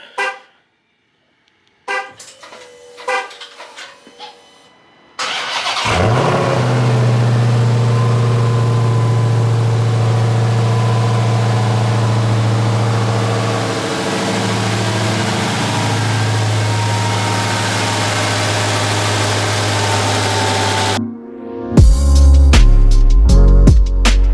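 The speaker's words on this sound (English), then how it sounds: "Let's give it a cold start." A Mopar car engine cold-starts on a chilly day around freezing, with a few clicks and cranking before it catches, then settles into a loud, steady close idle that runs on until a shift near the end.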